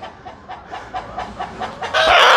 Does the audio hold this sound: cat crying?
no